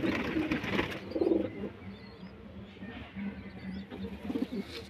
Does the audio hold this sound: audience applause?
no